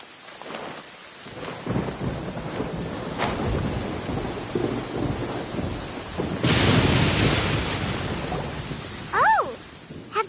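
Stormy weather in Genshin Impact's Sumeru desert: rain hisses steadily throughout while low thunder rumbles roll beneath, with a louder crack of thunder bursting in near the middle and a brief whooshing effect near the end; no speech.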